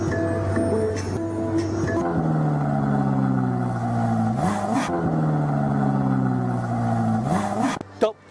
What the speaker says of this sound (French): Je vous emmène faire un tour de Ferrari